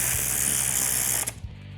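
A ratchet works rapidly, tightening bolts to pull a fuel pump down into place on an engine, its dense clicking loud and close before stopping with a brief clack.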